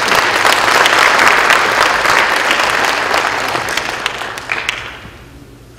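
Loud congregation applause welcoming a children's choir at a church worship gathering, thick steady clapping that swells early, then tapers off and dies away near the end.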